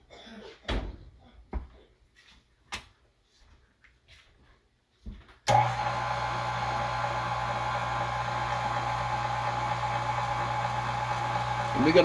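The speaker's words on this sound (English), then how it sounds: "we're gonna mix it till it's just combined" Electric mixer blending lemon cream cheese pound cake batter made with sifted cake flour, starting abruptly after a few faint knocks and running as a steady, loud whir to the end.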